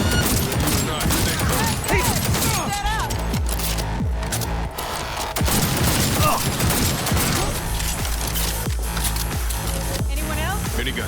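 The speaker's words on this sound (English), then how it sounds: "I'm taking fire!" Sustained gunfire rattles through a Cyberpunk Night City firefight in repeated bursts, with mechanical clatter and voices talking over the shooting throughout.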